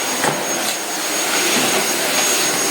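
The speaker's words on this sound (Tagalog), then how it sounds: "Pina-vacuum ko na pala siya." A vacuum cleaner runs loudly and close in a bedroom, a steady rushing whine with slight surges throughout.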